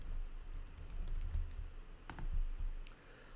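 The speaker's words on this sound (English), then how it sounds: "let's just type out logo Corrigan." Computer keyboard typing during graphic design work: a brisk, uneven run of soft key clicks, fairly close, with no talking over it.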